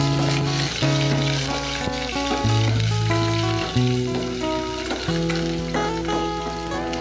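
Onions sizzling as they are stirred in hot cooking oil, a steady frying hiss that sits under prominent background music with sustained melodic notes throughout.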